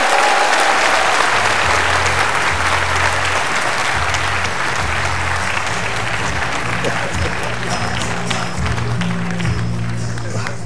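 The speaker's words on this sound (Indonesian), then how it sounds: "Tepuk tangan sekali lagi Ibu Megawati." Sustained applause from a studio audience greeting former Indonesian president Megawati at a televised national celebration event, steady dense clapping throughout with crowd noise and a voice speaking over it.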